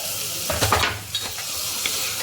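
Onions frying in a pan until they turn golden brown, a steady hissing sizzle with a burst of stirring and scraping near the start, heard up close with no talk.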